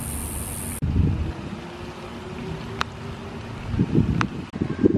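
Gusty outdoor wind during Hurricane Dorian in Orlando, a steady low rumble of wind buffeting the microphone that swells and surges near the end.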